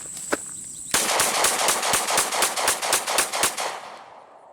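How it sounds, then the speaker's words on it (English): A Glock 17 pistol, fed from a Pmag magazine that had been dragged through gravel, fires a rapid string of roughly fifteen loud, close shots after one early click. The echo then trails off into quiet. "Let's shoot it, see if it still works."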